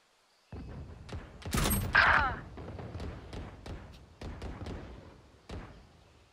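Grenade thrown and exploding in a video game shooter: a loud burst of blast noise in the middle, followed by a string of sharp, evenly spaced gunshot-like cracks, with no talk.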